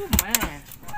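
A chicken clucking nearby, one or two quick, sharp clucks within a single second, fairly loud and close.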